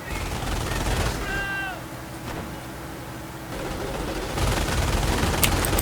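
Half-track machine gun fire in the Company of Heroes video game, with bursts of gunfire and battle noise filling the scene, a loud stretch at the start and again near the end, over a constant low rumble.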